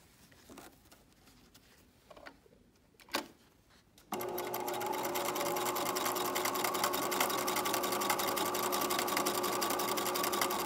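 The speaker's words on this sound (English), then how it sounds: "I'm just going to do a bar tack just down here at the end of that stitching line." A sewing machine stitches a bar tack at the end of a seam on period underwear, starting after a few quiet handling sounds and then running as a steady, close, fast mechanical whir for the remaining seconds.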